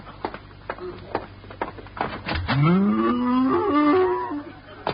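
A cow lows loudly and close in a studio radio comedy, one long rising moo that swells and wavers for about three seconds after a few brief clattering knocks.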